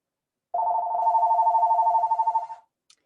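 A single telephone ring, a warbling electronic trill lasting about two seconds in an otherwise silent room, loud and close, then fading out with a brief faint click afterward.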